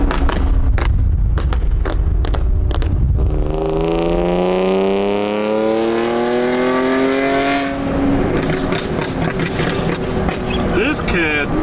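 Revving engine of a BMW E46 325i fitted with a burble tune, with loud rising and falling harmonic sweeps that peak and then fall away, followed by crackle amid voices talking over it.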